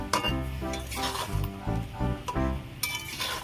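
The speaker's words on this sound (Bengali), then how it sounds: "এইভাবে নাড়তে থাকবো" A spoon stirs raw mango pickle with spices in a pan, giving repeated clinks and scrapes against the metal in an uneven rhythm, faint and close with a light sizzle beneath.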